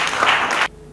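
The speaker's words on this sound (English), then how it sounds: "Clap for him." An audience at a Nigerian farming-program announcement bursts into applause, a dense wash of clapping that holds for about two-thirds of a second and then cuts off sharply.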